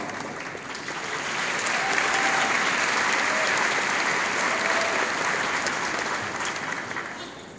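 A crowd at a graduation ceremony breaks into sustained applause. Dense clapping swells over a couple of seconds, holds steady, then tapers off slightly, heard at moderate volume from within the audience.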